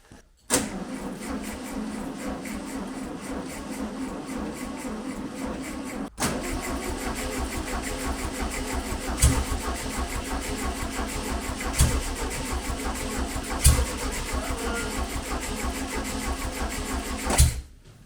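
A 1971 VW Beetle with a freshly installed engine and no accelerator linkage cranks and catches, then runs in a steady close rumble for a long stretch, with a few sharp clicks and bumps along the way.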